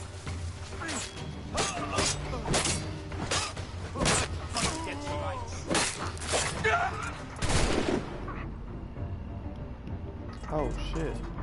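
Rapid bursts of gunfire from a PS4 video game, many close, loud shots in quick succession over several seconds, mixed with voices and a crash near the end.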